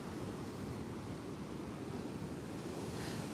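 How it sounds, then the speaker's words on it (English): Rough sea surf pounding the beach at Peguera, Mallorca, a steady loud wash of breaking waves with wind buffeting the microphone throughout. "Look at the waves. It's crazy today."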